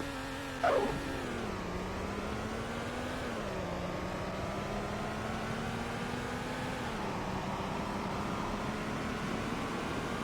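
A van in the Roblox game Greenville drives in neutral with a steady droning engine hum whose pitch rises and dips slightly over ten seconds, close and continuous after a brief click at the start.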